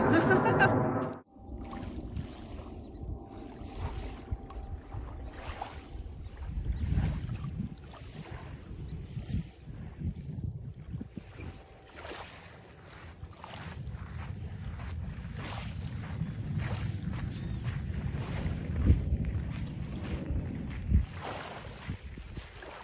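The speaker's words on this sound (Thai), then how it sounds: "เสียงลมเสียงเครื่องบิน" Steady low rumbling wind buffets the microphone on a beach throughout, with gusts swelling and easing, and a brief sharp dropout near the start.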